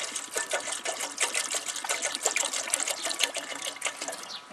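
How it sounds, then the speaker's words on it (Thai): Water poured into a pot to make about a litre of green tea, a steady splashing trickle with bright bubbling spatter, close and continuous throughout. "เทน้ำลงไปในหม้อนะครับ"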